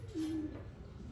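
A pigeon in a pigeon loft gives one low, brief coo, close by and soft against quiet background hum.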